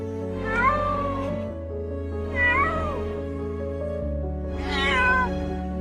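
A stuck cat calling for help before being rescued with a rope gives three loud, drawn-out meows, close by and spaced a couple of seconds apart over a low steady background hum.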